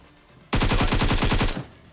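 Gunfire in the mobile battle royale game PUBG Mobile: a loud, rapid automatic burst of about a dozen shots in roughly one second, following a quiet lull, with no talking.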